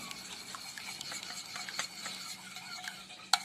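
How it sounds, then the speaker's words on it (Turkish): A spoon stirs yogurt with garlic and salt for a broad bean dish, a soft, steady scraping and swishing with small clinks, close by, ending in one sharper knock against the bowl. "Yoğurduma sarımsağımı ekledim. Bir miktar da tuz ekliyorum. Karıştıralım."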